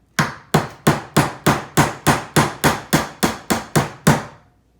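Nails being hammered into a wooden DIY tray box: twelve sharp, even blows in a steady rhythm, each ringing briefly. The hammering is close and loud, with no talking.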